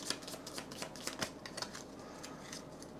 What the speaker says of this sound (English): Okay, we're shuffling this deck.